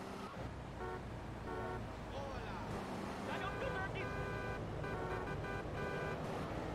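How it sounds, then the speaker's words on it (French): Car horns honking in the video game GTA 3, several short toots sounding over steady game traffic and ambient noise, with someone talking over them. "L'autre, il me klaxonne"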